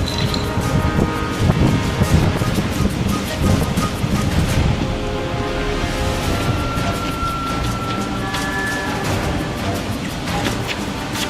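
Steady outdoor wind rushing through a Survivor challenge arena, a broad continuous roar with surf-like swells and scattered clattering, loud and close throughout with no speech.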